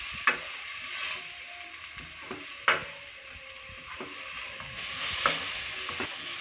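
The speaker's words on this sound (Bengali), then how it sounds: "কিমাটা আমি ভালোভাবে ভাজা ভাজা করে নামিয়ে নেব" Minced meat and cabbage frying in a pan, a steady soft sizzle broken by sharp scraping strokes of a spatula every couple of seconds, close up with no voices.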